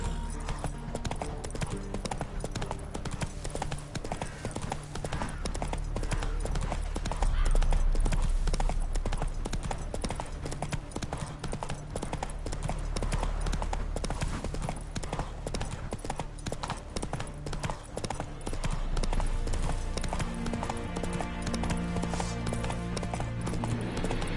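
Roach, a horse in The Witcher video game, gallops in a rapid, continuous clip-clop of hooves, loud and close, with brief swells and a faint whinny, under occasional voices.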